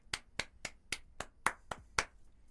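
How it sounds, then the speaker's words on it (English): Eight crisp, evenly spaced hand claps ring out close and alone, like a single person applauding slowly. "Round of applause for me."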